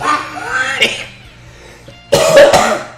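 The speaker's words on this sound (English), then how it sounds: "Stop coughing!" A person coughs in harsh bursts, a rough fit early on, a pause, then a louder, sharper cough near the end.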